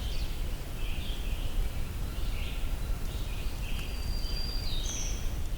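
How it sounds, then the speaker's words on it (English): A black-throated green warbler sings in woodland, several faint, high buzzy phrases repeated at intervals over a steady background hiss of insects and rustle, the bird sounding distant. "Black-throated green warbler."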